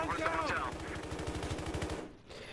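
Rapid pistol gunfire from a video game, a fast rhythmic burst of shots that runs for about two seconds and then stops, fairly loud and close.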